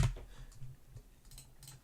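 Quick light keystrokes on a computer keyboard, a short run of soft clicks close by at a quiet level, with no one talking.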